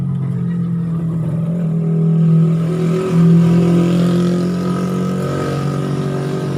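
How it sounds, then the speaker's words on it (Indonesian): Engines of passing motorcycles drone and swell on a nearby road, rising and fading over several seconds as they go by. "rumah saya dekat jalan ya, pas pinggir jalan, jadi banyak suara motor lewat"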